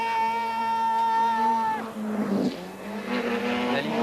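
A rally car on a 1986 Monte Carlo Rally special stage holds a high engine note, then brakes hard with a tire squeal, loud and close.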